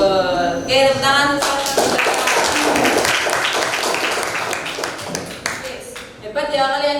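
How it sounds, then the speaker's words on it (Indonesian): A class of students claps their hands in a burst of brisk, uneven applause, close and lively, with voices calling out around it before and after. "Oke, tepuk tangan."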